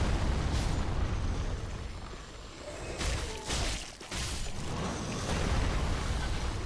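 Dense, continuous roar of blasts and bursts in Dark Souls 3, with sharper booms breaking through around the middle, loud and close without any talk.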